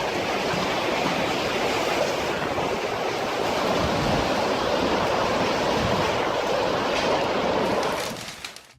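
Floodwaters from heavy rainfall and overflowing rivers near Austin surge around a school bus, a steady, loud rushing roar of moving water throughout that fades away at the very end.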